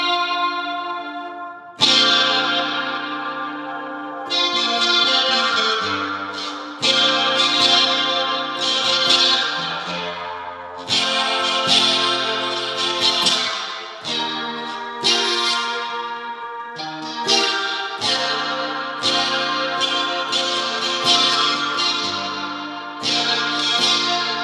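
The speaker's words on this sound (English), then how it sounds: "Like just listen to the rip when you rip the chord." An electric guitar rips through sustained chords, drenched in chorus, distortion and echo effects. The strums repeat steadily, each ringing out loud and full, with no talking.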